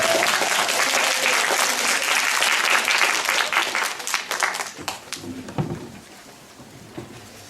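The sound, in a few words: audience applause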